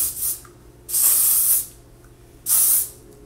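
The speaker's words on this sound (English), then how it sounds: "But I'm going to use their heat protectant spray first," Three short bursts of heat protectant hair spray hiss out close by, separated by brief pauses, with no talking.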